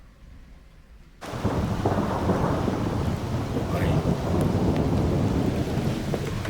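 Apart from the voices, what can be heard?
thunder and heavy rain in the jungle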